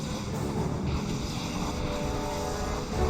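A big swarm of jet aircraft drones past in Red Alert 3, a steady, dense roar with a low rumble that holds even and close for about three seconds, no voices.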